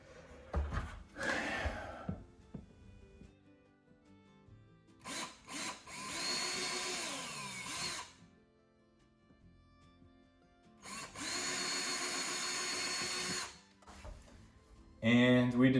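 Power drill boring holes into a drywall wall for a curtain rod, with two long, loud whirring bursts at close range separated by quieter handling noise, a brief louder burst at the end.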